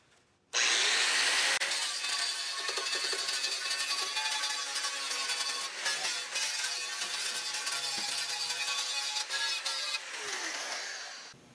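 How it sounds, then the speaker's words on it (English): Angle grinder cutting down spot welds on the rear sheet metal of a 1968 Mustang coupe, a loud, steady high-pitched grind held for about ten seconds with small shifts in pitch as the disc bites into the steel, then winding down. "I will find the welds here and grind the top of the welds off"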